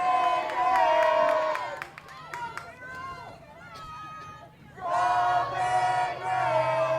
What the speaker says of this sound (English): Crowd getting it into it for Goshen.